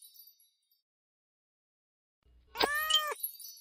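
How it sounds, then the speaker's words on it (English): A cat's meow played by a phone animal-sound game: one short, clear electronic meow with a slight upward bend, coming after near-silence, with faint chimes before it. "Cat."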